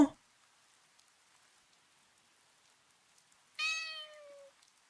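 A cartoon cat gives a single clear meow, rising then trailing off, in the video game Popoposan, heard alone after a brief sound at the start and near silence.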